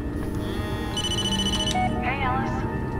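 A phone rings in the Blair Witch video game on Xbox One X, with a bright repeating electronic trill heard over background talk and ambient game sound.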